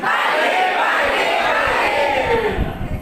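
A large seated audience at a digital literacy event shouts a loud unified one-word reply in response to a speaker, a single sustained crowd roar that fades toward the end.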